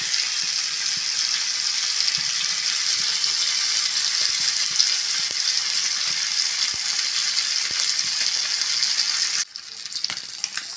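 Pomfret fish sizzling steadily in hot oil in a pan, a loud continuous close crackle with small pops, briefly dropping near the end as something is moved.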